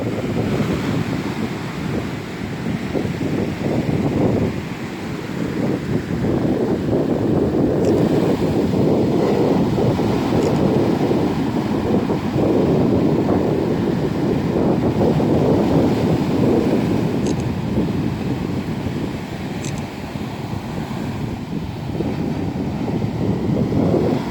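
Continuous roar of surf breaking on a beach at Yangyang on Korea's east coast, loud and steady with wind buffeting the microphone throughout; no voices.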